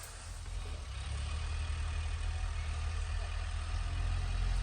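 A tractor ploughs a rice field, its engine droning low and steady while it gradually grows louder, nearby with no talking.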